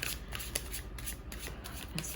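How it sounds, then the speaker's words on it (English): Tarot cards are shuffled close up in quick, repeated riffling bursts, a crisp papery flutter at a steady rhythm. "I feel like shuffling one more time and getting a few more."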